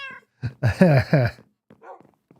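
A Minecraft cat gives several meows in a row, close and clear, with short gaps between them and a quieter mew near the end; no one talks.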